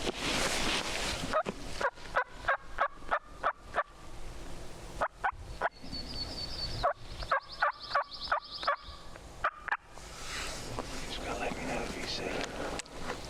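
A series of sharp, rapid wild turkey gobbles rings out repeatedly from about 50 yards away during a hunt, with quiet talking and outdoor noise around it.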